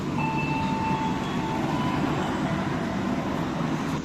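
The Gaya Baru Malam Selatan economy train arrives at Cirebon Prujakan station, heard as a continuous rumble of rolling rail cars with a faint high brake squeal near the start and no speech.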